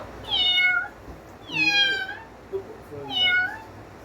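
Three drawn-out meows voiced by a person imitating a cat, spaced evenly with short pauses between, fairly close and clear.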